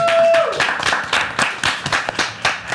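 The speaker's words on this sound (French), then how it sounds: "on les applaudit quand même" A live audience claps through the stretch, uneven bursts of handclaps rising and falling with a few short whoops mixed in, no talk over it.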